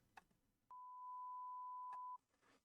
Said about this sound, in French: Ça fait bip.